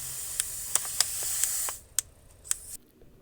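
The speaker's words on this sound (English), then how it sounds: "manually cycling the injectors as well as blowing air through there or whatever remaining fluid to see if we can even see a spray pattern" Honda fuel injectors, manually cycled with air blown through them, give short sharp clicks over a steady spraying hiss that stops partway through, leaving a few isolated clicks in near silence.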